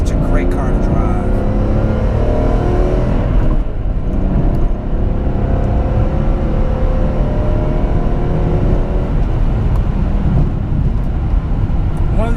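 BMW M3 inline-six engine running steadily while driving, a loud continuous interior drone with a slight swell in revs, heard under talk.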